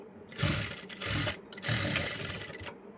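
A sewing machine stitches a blouse in two quick, close bursts of rapid mechanical whirring, separated by a brief pause, with no voices.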